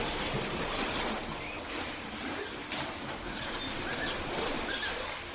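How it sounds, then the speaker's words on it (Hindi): Ocean waves wash onto a sandy beach in a steady, continuous surf with a soft breezy hiss, a few faint bird calls high above, no voices. "सामने विशाल समंदर,"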